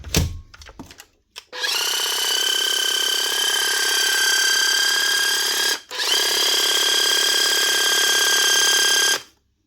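Makita DUH453 cordless hedge trimmer with a replaced motor, revving up to a loud steady high-pitched whine, briefly dropping out, then running again before stopping, with some clicks at the start.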